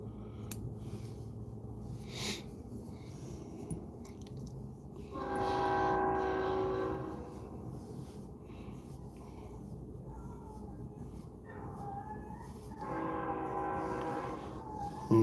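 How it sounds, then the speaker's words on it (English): A train passes about a block away, its horn sounding in two long, moderately distant blasts separated by a low rumble of rolling cars. "but that's a train coming by."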